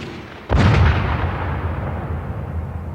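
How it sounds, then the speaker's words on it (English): A single loud gunshot cracks at close range, fired during a clash between soldiers and Navajos after a horse race, its heavy boom trailing into a long, rumbling echo that fades slowly. "Gunshots."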